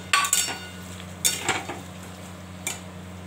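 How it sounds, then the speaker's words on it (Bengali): Potato and pointed gourd sauté in a pan, heard as a few sharp stirring scrapes and brief sizzling bursts over a low steady hum, with no talk. "এবার আলু পটলটা দিয়ে দিচ্ছি। আলু পটলটা দিয়ে একটু কষাবো।"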